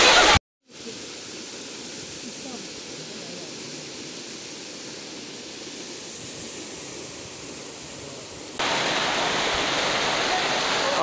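Waterfall at Bhurmani in Pithoragarh roars in a steady, dense rush of water close by, broadening and growing louder toward the end with no voices over it.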